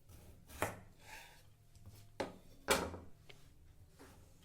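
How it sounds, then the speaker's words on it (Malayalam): A knife chopping a peeled potato into long French fry sticks on a cutting board, several crisp close thuds at irregular intervals with softer knocks between, quiet otherwise. "ഇതുപോലെ നീളത്തിൽ കട്ട് ചെയ്തിട്ടുണ്ടെങ്കിൽ ഫ്രഞ്ച് ഫ്രൈസ് നല്ല സ്റ്റിക്കായിട്ട് കിട്ടും"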